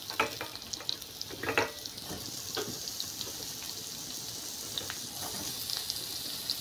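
Potatoes and fish frying in a pan with ridge gourd being added, a steady sizzle with faint stirring clicks, fairly quiet and close, no talking.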